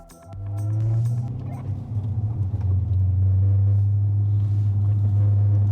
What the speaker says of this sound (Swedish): Corvette Z06 with the Akrapovic exhaust versus Audi R8 V10 up to racing.